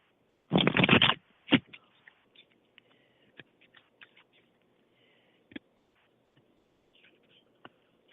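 A deck of cards is riffled in one quick, loud burst during a psychic reading, followed by a snap and a scatter of soft, sparse clicks and taps as the cards are handled in a quiet room.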